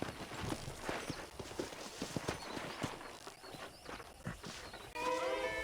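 Horse hooves in Red Dead Redemption clip-clop at a steady walking pace, close and clear, ending with a brief burst of louder ambient sound.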